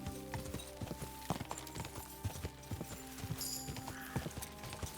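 Horse hooves beat in a fast clip-clop through Kingdom Come Deliverance 2, steady and fairly close over a layer of game music and ambience, with no talking.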